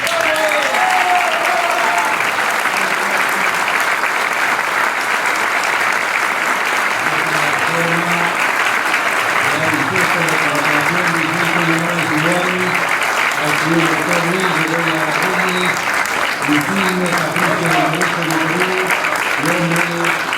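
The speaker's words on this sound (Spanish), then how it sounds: "Aplausos, grandes aplausos para el licenciado doctor Luis Bedoya Reyes" Sustained audience applause fills an award ceremony honoring a lawyer on Lawyers' Day, dense clapping throughout with a voice speaking over it through a PA.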